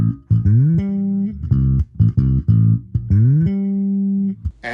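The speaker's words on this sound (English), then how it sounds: "Today we're reviewing the Fender Rumble Stage 800 bass amp." Bass guitar through a Fender Rumble Stage 800 bass amp, played alone as a loud, close run of sustained notes and short plucked phrases, with slides between pitches and no talking.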